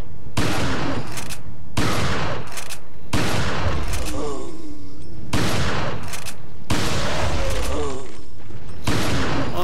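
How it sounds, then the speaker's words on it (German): Loud, booming shotgun blasts in Resident Evil 4 HD fire in a steady series, about six heavy shots with short gaps between them, each followed by a brief ring-out. "Dann mit der Shotgun bearbeiten."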